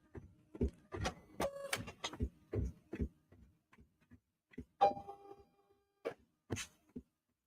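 A printer used for cutting cheer cutouts clicks and whirs in short, irregular bursts of mechanical ticks and motor whines. It is fairly quiet and close, with gaps between the movements.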